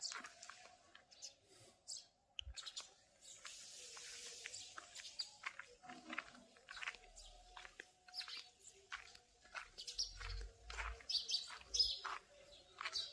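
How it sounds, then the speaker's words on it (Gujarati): Sparrows gather and chirp near a home, rapid bright tweets and short calls in irregular bursts, close but fairly faint, with occasional soft low thumps between them. "રોજ ચકલીઓ પહોંચી જાય"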